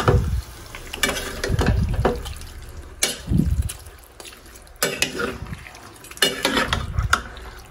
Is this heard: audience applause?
no